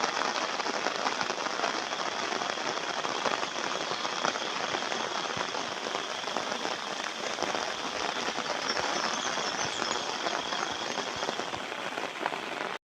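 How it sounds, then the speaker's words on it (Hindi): Light, steady rain pattering on a village rooftop in Sambalpur, a soft continuous drizzle of fine drops heard alone without any voices. "आ वर्षा टिके टिके होची"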